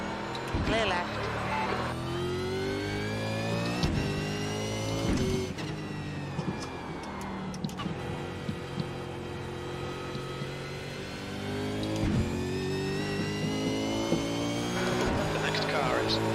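Race car engines whining and droning on track, with rising and falling pitch as cars pass and shift, loud and continuous, with several sharp transient bursts along the way.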